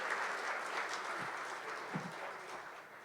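Quiet, distant applause from an audience at a hybrid live-streamed event, a soft continuous patter of clapping that gently tapers toward the end.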